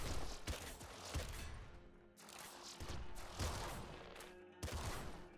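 Gunfire in the video game Nuclear Throne with the Ultra Mod: dense bursts of rapid shots and crunching impacts in several volleys separated by short gaps, loud and close, with no talking.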